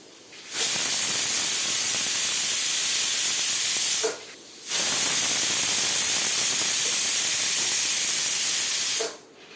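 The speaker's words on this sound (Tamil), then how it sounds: "இந்த வாழைத்தண்டை நல்லா ஒரு கோல்ஸ் பேஸ்ட்டாக அரைச்சிட்டாச்சு" A kitchen mixer grinds steamed banana stem into a coarse paste, running in two loud, steady whirring bursts with a short pause between them and a brief start of a third at the end.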